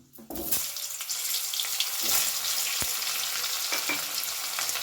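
Diced potatoes hit a hot pan of tempered spices and fry with a steady, close crackling sizzle, broken by a few stirring scrapes throughout.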